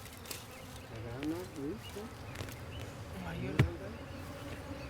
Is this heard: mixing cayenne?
no